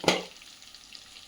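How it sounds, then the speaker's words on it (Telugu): Eggplant pieces frying in a pan for vangibath give a brief, quiet sizzle with a soft stirring scrape at the start, then fade to a faint hiss. "ఫ్రై అయినట్టు డీప్ ఫ్రై అవ్వకూడదండి, ముక్క మెత్తపడాలి అంతే."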